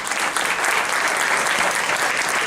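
Sustained audience applause from a seated group greeting first-time attendees at an evening meeting, dense steady clapping throughout at close range with no talk over it.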